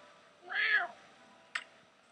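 A cat meows once in a Minecraft cat mod, a clear mid-length game meow followed by a short sharp click-like blip.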